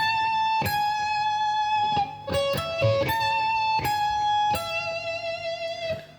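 Guitar playing a keyboard intro, sustained bright clean notes picked one at a time in a slow melodic phrase with a few quicker runs, close and alone without talk.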